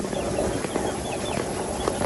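Chickens in a backyard coop give soft, scattered clucks amid steady outdoor background noise, with no one speaking.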